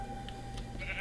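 Sheep bleating in Minecraft: a couple of short, faint bleats over a steady background hum, with no talking.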